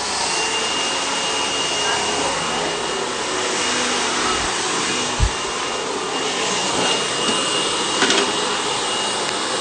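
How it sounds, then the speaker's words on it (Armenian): A hair dryer blows steadily throughout while hair is styled into waves, a continuous loud whooshing drone with a few faint handling clicks near the end and no talking. "այսօր կատարում ենք ֆենով ալիքներ"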